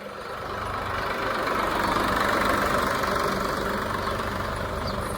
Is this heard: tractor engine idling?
yes